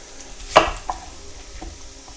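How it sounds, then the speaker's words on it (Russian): A knife chops an onion for borscht in a home kitchen, one sharp cut followed by a couple of softer taps against the board, close and short, over a quiet background with no talking. "Теперь нарежем быстренько лук."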